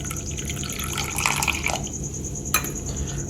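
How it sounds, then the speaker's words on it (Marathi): Water is poured into salt in a kitchen while making banana wafers, a steady faint trickling and dripping with a sharper splash near the end, no talk. "तर आपल्याला मिठामध्ये पाणी ऍड करायचं आहे।"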